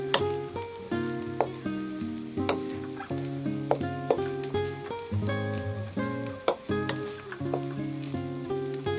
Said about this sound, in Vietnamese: mình cho hết cái phần rau củ và lạp xưởng ta xào lúc nãy vào, trộn đều lên khoảng 2 phút nữa